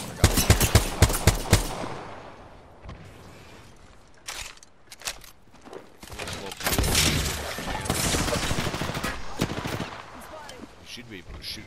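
Gunfire in the video game Apex Legends: rapid bursts of automatic fire opening loudly, then scattered single shots and a longer sustained volley, with brief talk in between.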